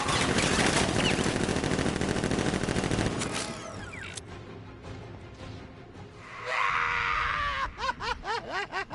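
Sustained machine-gun fire from a Batman video game rattles loudly for about three seconds, followed by scattered shots, shouts and groans, then a rising burst of game effects.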